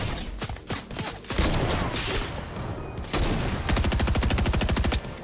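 Rapid bursts of gunfire from the Fortnite battle royale video game, a heavy sniper among the weapons, crackle in dense overlapping volleys with booming shots, ending in a fast, steady automatic string.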